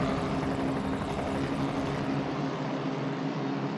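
A loud helicopter over a motor race at Circuit de Barcelona-Catalunya drones steadily, its rotor thrum and engine whine filling the scene with a constant roar and no voices.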